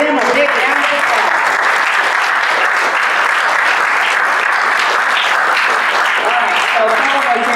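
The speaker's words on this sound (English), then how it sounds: "Give them a big round of applause." Sustained applause from a Rotary club audience at a meeting, steady dense clapping filling the room throughout without pauses.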